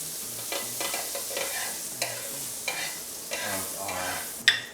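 Butter and food sizzle on a hot, preheated sandwich grill at a street stall, with repeated scraping and stirring strokes and a sharper clatter near the end, heard close and without talk.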